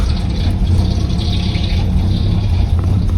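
An AMC Gremlin engine that sat for 32 years runs roughly, a loud, low, uneven rumble with a ragged idle that continues without a break.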